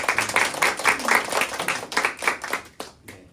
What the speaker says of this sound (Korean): 그리고 어머니들을 위한 감사의 박수.